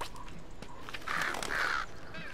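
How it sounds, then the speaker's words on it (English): Crows cawing in the Tearaway Unfolded video game, two raspy calls close together over a quiet background, each harsh and fairly loud, with no talk over them. "Oh, the crows scare me away."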